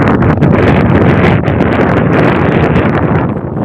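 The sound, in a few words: strong wind blowing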